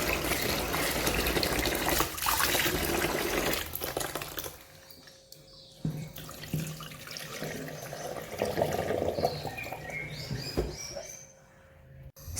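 Soaked glutinous rice washed under running tap water, a loud continuous gushing stream that later eases into softer splashing and swishing as the grains are rinsed, with no talking.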